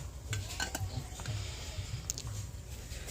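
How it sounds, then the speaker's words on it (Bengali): A metal lid comes off a steamer pot of steamed momo pitha, giving a few light clinks and scrapes over a low, steady kitchen hum. "এবার আমি ঢাকনাটা খুলে দেখে নেবো হয়েছে কিনা"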